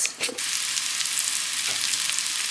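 Tomato and garlic pasta sauce heats in a pan with a steady, dense sizzle and crackle, close and even throughout, with a brief scrape of stirring at the start and no talk.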